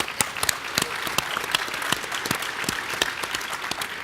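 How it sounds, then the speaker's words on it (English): Audience applause fills a mayors' panel event on prosperity in their cities, a steady dense patter of many hands clapping with no talk over it. "please do give them a round of applause"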